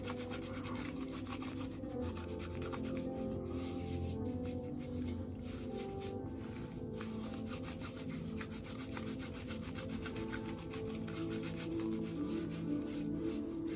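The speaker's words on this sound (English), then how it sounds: "you just take the lather and rub it in" Shaving lather is rubbed into the face with steady, close, soft rubbing and brushing strokes that continue without pause over a low background rumble.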